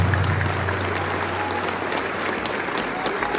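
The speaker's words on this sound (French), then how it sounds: "Je vous demande de l'applaudir très fortement" An audience at a public gathering breaks into strong, sustained applause, a thick, even roar of many hands over a low background hum, with no pause throughout.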